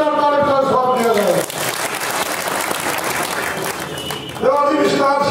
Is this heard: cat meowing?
no